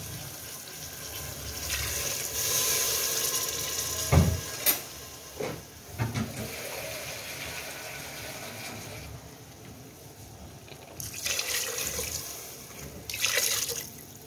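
Water poured into a pot of mutton haleem, a steady rush and trickle of liquid with a few splashes and clinks, fairly close and alone.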